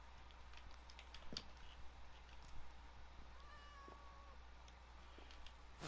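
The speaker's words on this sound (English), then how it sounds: "I hear a cat." A cat meows a few times at a distance, faint and brief, against a steady low hum and scattered small clicks and taps.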